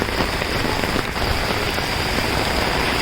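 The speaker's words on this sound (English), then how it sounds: "And again it started pouring now." Heavy monsoon rain pours down in Mumbai, a dense continuous hiss of drops striking surfaces close by, steady and loud with no voices.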